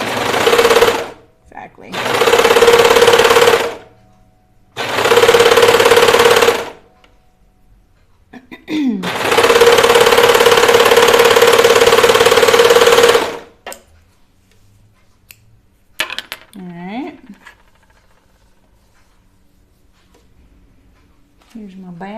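A sewing machine stitches a toaster sweater in four bursts of steady, close whirring, each running a few seconds with pauses between, followed by someone speaking in the quieter stretch.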